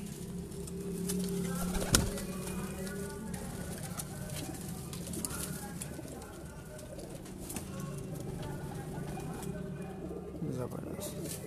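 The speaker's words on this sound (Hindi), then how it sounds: "माशाल्लाह बहुत ही खूबसूरत कबूतर है" Pigeons at a breeder's loft cooing in soft, repeated low murmurs, with occasional wing flutters and a sharp knock, heard under steady nearby talk and background noise.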